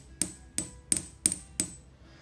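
Metal pin striking a cracked hammer frame from an Ingersoll Rand 2925P3TI 1-inch impact wrench, five evenly spaced sharp taps with a dull, short-ringing tone, each quickly decaying, close and alone.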